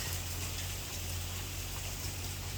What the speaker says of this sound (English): So right now it's currently raining hail.